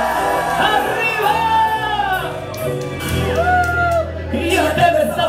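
An audience at a live drag show shouts and whoops loudly in sustained, overlapping cheers that swell and dip across several seconds.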